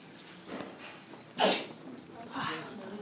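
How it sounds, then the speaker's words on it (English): One sharp, forceful sneeze bursts out close by, with soft breathing and small rustles before and after. "I sneezed so hard I turned the iPad upside down."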